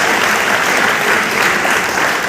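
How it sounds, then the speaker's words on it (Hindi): Loud, sustained applause from a large audience, dense clapping that stays steady throughout with no talking. "मैं चाहूँगा उनके लिए जोरदार ताली आप लोग बुलाएं"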